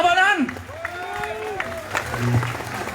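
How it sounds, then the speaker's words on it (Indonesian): Outdoor crowd applause at a Balinese Hindu protest rally in front of the DPD RI building, clapping and cheering under a loud voice with tonal speech-like sweeps, the crowd noise continuous but busy. "Tepuk tangan"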